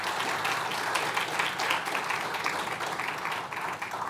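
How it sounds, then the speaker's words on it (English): Audience applause at a fire department youth fire academy graduation ceremony, steady sustained clapping from a crowd that fills the room evenly without pause. "Let's give her a round of applause."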